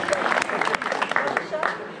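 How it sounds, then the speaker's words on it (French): Crowd applause at a rally gathering in Saint-André-les-Alpes, dense clapping from many hands, fairly close and steady, with someone speaking loudly over it. "Bravo, ils s'applaudissent eux-mêmes, c'est encore mieux"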